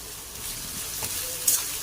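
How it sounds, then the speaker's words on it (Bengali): Onions fry in a pan for pulao, giving a soft, continuous sizzle with a faint crackle, fairly quiet and with no voices over it. "এখানে রান্না করছি, পেঁয়াজ ভাজা হচ্ছে,"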